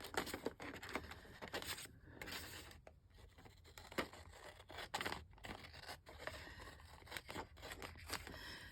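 Paper is cut down to size with scissors in a quiet room, repeated close snips and scraping cuts in an uneven rhythm, faint overall.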